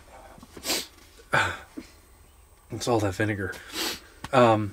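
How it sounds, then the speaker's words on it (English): A single sharp sneeze in a truck camper setting, surrounded by casual conversation. "I gotta sneeze."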